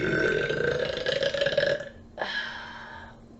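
A woman lets out a long, loud, drawn-out burp close to the listener, followed after a brief break by a second shorter belch, with nothing else audible behind it.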